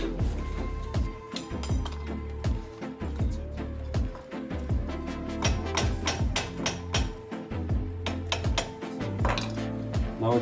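A rubber mallet taps repeatedly on the front brake caliper of an Opel Vectra B during a brake pad and disc change, giving a rapid run of close, hard metallic knocks and clinks with no talking.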